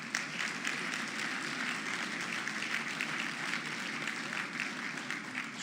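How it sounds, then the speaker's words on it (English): Audience at a 2024 conservative gathering applauds with steady, dense clapping from a large crowd, even and sustained, a little distant, with no speech over it. "he's deserved a round of applause by the right"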